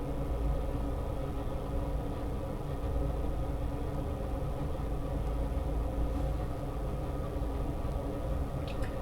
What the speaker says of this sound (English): Vector here idling on standby.